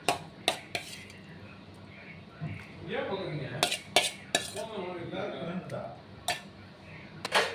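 Masala mixed into blended curd with a spoon for a curd curry: scattered sharp metallic clinks of spoon against the bowl, some in quick pairs, with a person talking throughout.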